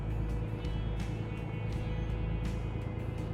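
Truck engine in American Truck Simulator pulling steadily on a highway, with a constant low drone and faint rising whooshes, with no breaks across the whole stretch.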